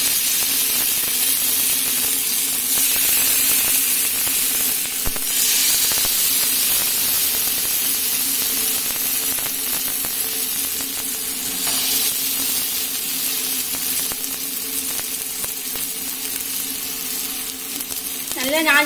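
Fish frying in oil on a flat tawa in a home kitchen, a steady close sizzle and hiss that runs without pause from start to finish, with a few faint clinks near the end.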